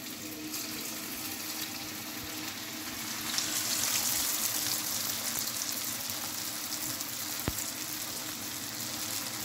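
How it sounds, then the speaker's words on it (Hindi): Potato cheese rolls fry in hot oil over a medium flame, producing a continuous, fairly quiet hiss and bubbling that holds steady throughout, with a faint tap partway through. "ऑयल मैंने गर्म कर लिया है, अब मैं इसको मीडियम फ्लेम पे फ्राई करूँगा।"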